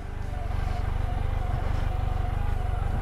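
A BMW K1 motorcycle's fuel-injected engine idles steadily nearby, a low rapid pulsing thrum that stays even and unchanging.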